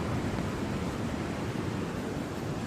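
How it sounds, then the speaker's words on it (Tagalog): Ocean surf rolls in steadily at Big Wave Bay, Hong Kong, a broad continuous roar of breaking waves mixed with wind rumble, close and even throughout with no clear separate crashes. "Nangahampas yung waves, guys."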